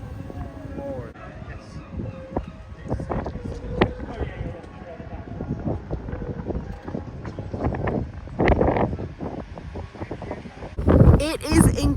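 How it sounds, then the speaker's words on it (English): Strong gusts buffet the microphone outdoors at Blackpool Zoo on a windy, rainy May day, giving loud, uneven low rumbles and bursts throughout, with faint voices now and then underneath. "It is incredibly windy today at the zoo, you guys."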